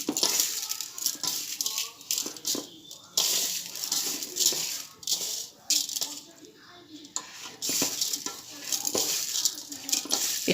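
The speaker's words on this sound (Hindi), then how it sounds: "अब इसे अच्छे से मिक्स करूँगी।" Shukri with added colour being stirred in a pot, a spoon scraping and rattling against the metal in irregular strokes, with faint clinks throughout.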